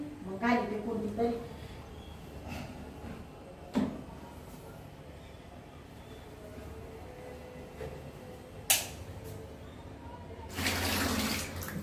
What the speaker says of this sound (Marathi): मस्त आंघोळ करते